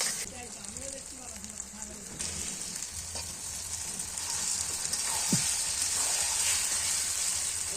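Meat and spices sizzle and fry steadily in a pan, a dense crackling hiss that grows louder as cooking goes on, with scraping stirs and faint voices talking in the background.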